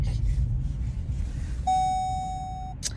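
Car warning chime signalling possible snow: a single steady electronic tone lasting about a second, heard inside the car over low road rumble, followed by a short noise at the end.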